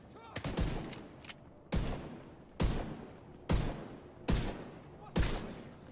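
Gunshots aimed at a shield in The Division 2, about six sharp, loud reports spaced roughly a second apart, each ringing out with a short decaying tail.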